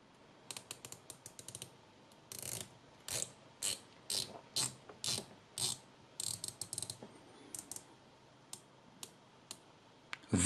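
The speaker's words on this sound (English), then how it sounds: "very precise clicks, very nice bezel action" Rotating bezel of a Seestern Sub 300 dive watch turned in a run of sharp, precise ratcheting clicks, close and crisp, some in quick bursts and others spaced out, with no talking.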